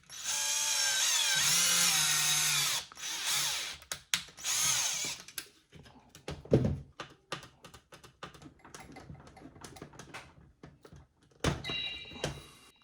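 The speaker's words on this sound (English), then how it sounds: "you can take a drill to drill a hole instead, but make sure you don't go too deep" A handheld power drill bores a shallow hole into a Hasbro toy wand during a GPSTAR 2 kit install, whirring loudly for a few seconds, then shorter bursts follow among clicks and taps of handling plastic parts.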